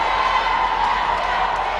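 A Russian home crowd at a judo Grand Slam final in Moscow, a steady, distant roar of cheering from the arena stands filling the whole moment without a break.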